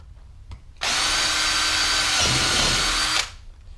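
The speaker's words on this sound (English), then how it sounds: "I'm going to quickly drill my holes just like this." A power drill whirs steadily for a few seconds at close range, starting abruptly and cutting off cleanly, with its pitch dipping briefly mid-run as it bites into material.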